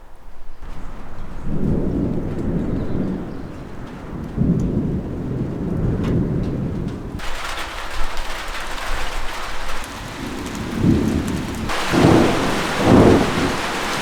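A thunderstorm approaches outdoors while rain starts to fall: steady rain hiss throughout, with several low rolling rumbles of thunder rising and fading, the downpour growing heavier partway through.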